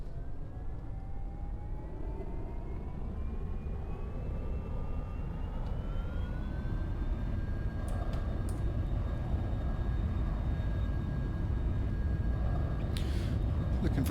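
Airplane in the X-Plane 11 flight simulator throttling up for takeoff, its engine whine rising steadily in pitch over a constant loud roar, with no voices.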